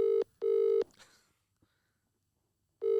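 Telephone call tones on a golf podcast phone call: two long electronic ring pulses close together, a pause, then another pulse starting near the end, clear and steady with no talking.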